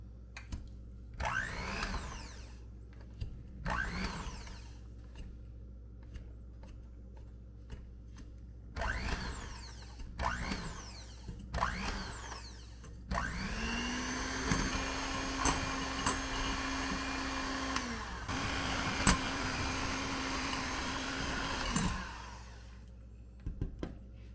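An electric mixer creams a stick of softened butter in short whirring bursts, then runs steadily for about ten seconds. The motor whines close and fairly loud, with no talk over it.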